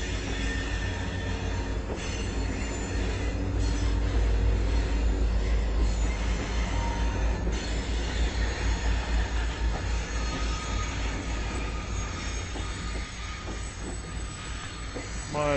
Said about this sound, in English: Wave to the train.